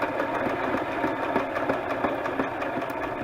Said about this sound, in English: So I am just going to sew around this, again using the zigzag,